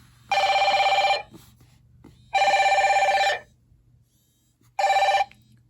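Ringtone from a counterfeit Apple Watch Ultra: three bursts of a bright, buzzy electronic ring, each about a second long, separated by short pauses with faint low hum underneath.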